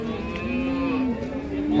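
A single drawn-out moo from a cow with her calf, steady and fairly close against a livestock-market background.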